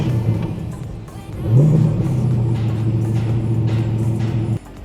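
A car engine idles steadily at an auto salon, with a brief rise in revs partway through before settling back to an even, continuous drone that cuts off near the end.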